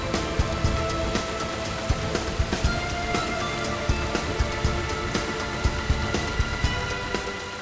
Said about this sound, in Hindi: जब ये बारिश होगी उसके बाद ही हम यहाँ से बाहर निकलेंगे